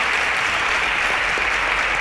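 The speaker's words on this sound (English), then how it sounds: "A round of applause." An audience at a quiz competition show claps steadily and densely for a winner, with an even, continuous wash of applause throughout.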